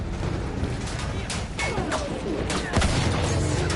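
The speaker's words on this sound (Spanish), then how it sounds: "Esas ametralladoras están conteniendo a nuestros chicos." Machine gun fire in the video game Battlefield 1, with dense crackling bursts and distant booms layered over constant battlefield noise, fairly loud and continuous with no clear pauses.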